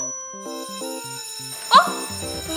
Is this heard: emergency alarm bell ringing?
yes